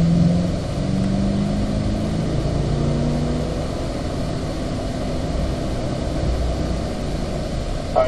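A Chevrolet C8 Corvette holding fourth gear on the Spring Mountain track, its engine a steady continuous drone with a low hum throughout, fairly loud and without talk.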